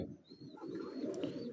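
A racing pigeon coos softly, a faint low murmur under steady background noise with no talk.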